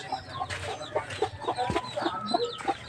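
Backyard chickens cluck repeatedly at feeding time, a busy overlapping chorus of short clucks and calls close by, with a sharp louder call near the middle.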